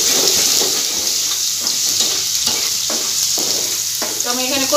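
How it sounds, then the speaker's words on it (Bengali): Garlic and onion sizzle loudly in the hot oil left from frying fish, the base for a taro-leaf dish. The crackle is continuous and close, with a few stirring scrapes and clinks toward the end. "কচু শাকের জন্য মাছটা উঠে ওই তেলের মধ্যে আমি দিয়ে দিয়েছি রসুন আর পেঁয়াজ"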